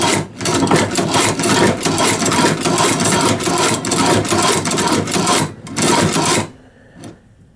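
A leather sewing machine stitching in rapid, even bursts, loud and close, with a brief pause before a final run, then it stops near the end.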